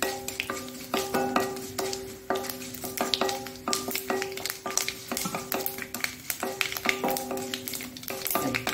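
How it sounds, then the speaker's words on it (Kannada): Mustard seeds and urad dal frying in a hot pan, with a busy crackle and spatter broken by repeated stirring scrapes and clinks throughout, fairly close and steady. "ಈ ಸಾಸಿವೆ ಹೊಡಿಬೇಕು, ಮತ್ತೆ ಉದ್ದಿನ ಬೇಳೆ ಸ್ವಲ್ಪ ಕಲರ್ ಚೇಂಜ್ ಆಗಬೇಕು"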